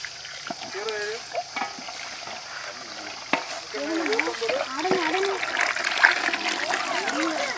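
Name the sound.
tamarind water poured into village fish curry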